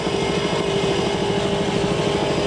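Racing powerboat engines roar steadily and loudly on the Detroit River during the 1983 APBA Stroh Light Challenge, a continuous thick drone with no pauses or talk.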